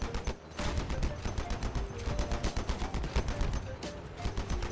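Rapid gunfire in the vehicle combat video game Crossout, loud sustained bursts of automatic shots in a fast, steady rhythm with brief gaps, some explosive hits among them.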